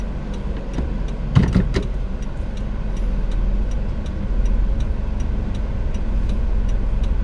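Steady low engine rumble inside a car moving along a driving test course, with a brief burst of a voice or noise early on and a regular faint ticking, likely the turn signal, repeating throughout.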